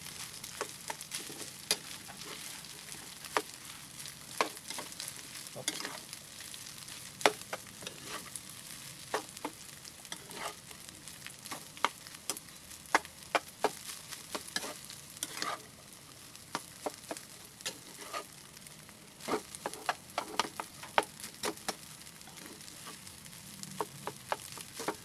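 Rice frying in a pan with a quiet, constant sizzle, punctuated by frequent sharp scrapes and taps as a spatula stirs it.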